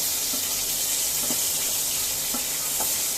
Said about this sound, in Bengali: ছোট ছোট টুকরা করে রেখেছি যে মাংসটাকে আমি এখন ভেজে নেব